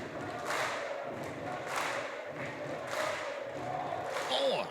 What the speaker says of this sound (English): This crowd here in Newcastle clearly believing in Joe Hendry